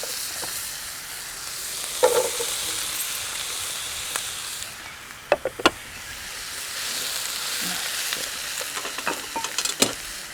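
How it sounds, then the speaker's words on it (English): Green onion and vegetables sauté in a pan with a steady soft sizzle and hiss, punctuated by occasional clinks and scrapes of stirring, close and moderate in volume with no talking. "Just saute it for a little bit till the veggies just start to"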